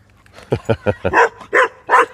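A dog barks several times in quick succession, close and fairly loud, the short sharp barks giving way to slightly longer, fuller ones with no talking over them.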